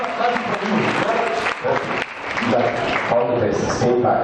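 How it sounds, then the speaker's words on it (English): An audience at a lecture on human relationships claps together in a lively, uneven burst, with a speaker's voice mixed in over the clapping. "We give him a big clap. Give him a big clap."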